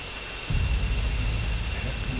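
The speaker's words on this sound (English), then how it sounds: "I thought you like hearing the engines." Aircraft engines in the flight simulator DCS World give a steady roaring jet hum with a broad hiss, swelling into deeper rumble partway through and continuing under faint background noise.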